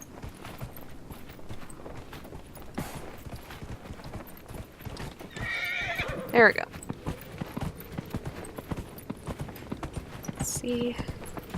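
A horse's hooves clip-clop steadily at walking pace in Dragon Age Inquisition, a close rhythmic patter running throughout, with a brief chime of game sounds midway and someone talking over it.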